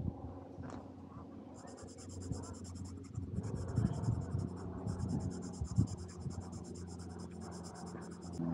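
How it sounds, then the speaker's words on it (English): Charcoal and pastel scribble across paper outdoors at a botanical garden, giving a continuous close scratching that comes in quick strokes over soft background ambience. "So I'm going to convey dirt by scribble"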